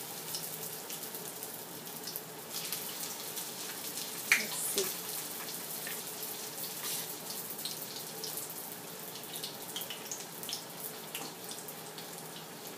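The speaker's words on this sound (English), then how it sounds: "We'll add water here." Water runs from a tap while a vegetable samosa filling or dough is prepared, a steady hissing trickle over about thirteen seconds, close and moderately loud, with a brief clink partway through.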